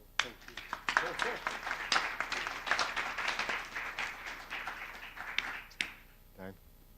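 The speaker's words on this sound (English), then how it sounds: "Join me in giving them a quick round of applause" Brief round of applause from a conference audience thanking the panelists at a spectrum management conference in Jakarta, a dense burst of clapping lasting several seconds that fades out at the end.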